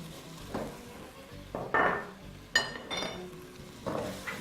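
Browned beef mince and teriyaki mushrooms stirred in a pan, several scraping clinks of a utensil against metal over a soft sizzle, spaced irregularly and fairly close.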